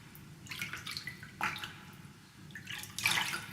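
Water drips land in an irregular patter, several light splashes spread across a few seconds, each brief and wet-sounding over a quiet, steady room hum, with no speech.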